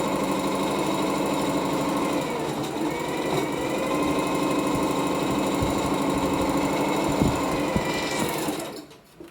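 A sewing machine stitches through layered cloth for face masks, running in a steady, continuous whir close up, then winding down and stopping near the end.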